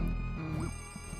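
Telephone ringing behind a closed door in the Luigi's Mansion 3DS video game, a faint, muffled electronic bell trill set within quiet background game music.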